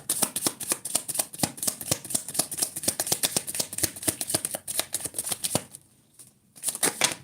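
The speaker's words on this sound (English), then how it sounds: "Let me shuffle over the floor." Tarot cards are riffled and shuffled in a quick, steady run of crisp flicking snaps that stops briefly near the end and then starts again. The shuffling is close and plain, and no voice is heard.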